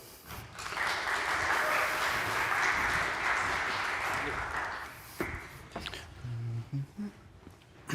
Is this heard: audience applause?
yes